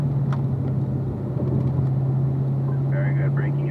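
A race car drives around a track during a driving-school run, its engine droning steadily and close throughout, with an instructor's voice talking over it.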